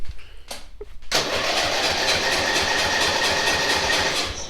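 A small engine on a homemade trackless train cranks briefly, then catches and runs at a steady, loud, busy idle close by.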